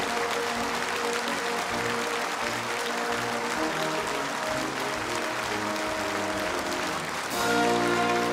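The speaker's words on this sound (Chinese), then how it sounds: "让我们再次用热烈的掌声向国家勋章和国家荣誉称号获得者致以崇高敬意" Sustained applause from a large standing audience at a national awards ceremony honouring medal recipients, a steady dense wash of clapping with music tones underneath that swells louder near the end.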